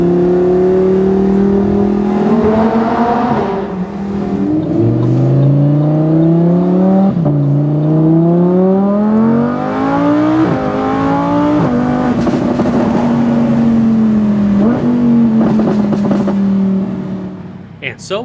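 A 2015 Lamborghini Huracán LP610-4 revs loudly past 4,000 rpm with its brake held, then launches hard, the engine note climbing and dropping through repeated sharp gear-change sweeps that dominate throughout.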